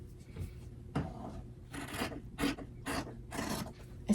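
Scissors cut through fabric scraps from upcycled T-shirts, producing a series of short, close rasping snips in an irregular rhythm, fairly quiet with pauses between cuts.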